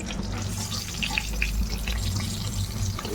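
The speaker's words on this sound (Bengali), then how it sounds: "পটলটা দিয়ে নিচ্ছি পটল ভাজতে ভাজতে" Pointed gourd tipped into a pan of hot oil and frying, a continuous dense sizzle with light scraping and clinks, heard close and fairly loud throughout.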